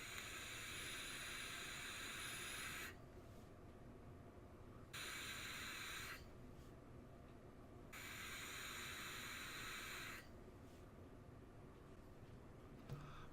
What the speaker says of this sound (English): Let's give it a vape.